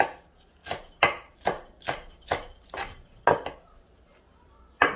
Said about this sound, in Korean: 이제 청양고추는 다져 주시면 돼요.